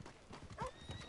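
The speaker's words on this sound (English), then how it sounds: "Where's my horse?" A horse in the Red Dead Redemption 2 video game gives a short whinny over a few quick hoof clops, close and moderately loud, lasting about a second.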